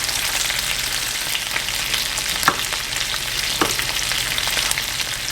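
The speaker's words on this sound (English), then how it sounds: "we're going to stir our chicken and get it cooked all the way through" Steady sizzling of chicken frying in a pan, with a few soft clinks and scrapes of stirring breaking through the constant crackle.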